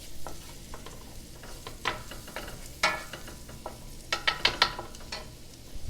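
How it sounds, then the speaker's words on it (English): Kimchi and spam fry in a pan, a low sizzle under repeated close scraping and clattering strokes of a utensil, the stirring growing busier toward the end. "So I'm going to add my kimchi in here. And fry it."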